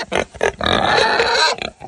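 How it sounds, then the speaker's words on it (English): Hungry farm pigs grunt and squeal in several close, loud bursts, one long squeal in the middle, with no talking. "These pigs always act like they're hungry."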